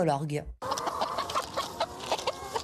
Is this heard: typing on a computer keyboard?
no